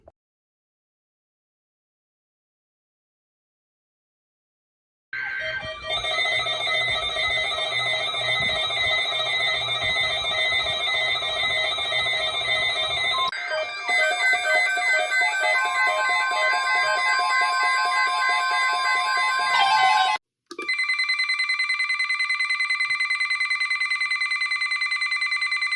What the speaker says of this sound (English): the warning siren at the end